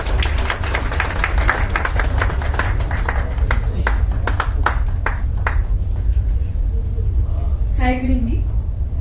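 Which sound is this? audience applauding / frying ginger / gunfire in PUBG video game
audience applauding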